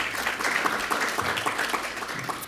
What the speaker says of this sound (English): And applause to those who participated in this for us.